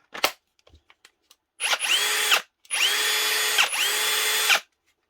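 A heavy-duty brushless cordless drill with a metal gearbox and metal chuck spins up in three bursts, a short one then two longer runs, close and loud, with a high whirring tone between small clicks and pauses.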